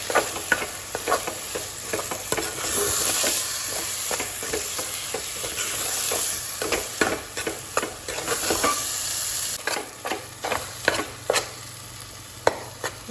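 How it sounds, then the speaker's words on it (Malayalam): Spoon stirring a bread chili mixture in a pan after salted water is added, with steady sizzling and frying hiss beneath repeated scraping strokes, close and alone. "നന്നായിട്ടൊന്ന് ഇളക്കി കൊടുക്കാം"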